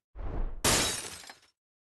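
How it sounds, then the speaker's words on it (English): Glass windows of a carriage shatter into pieces in a game scene: a low rumbling whoosh gives way to one loud, bright crash of breaking glass, then tinkling debris that quickly fades, with no talking. "The instant the candlelight dims, the courser's windows shatter into pieces"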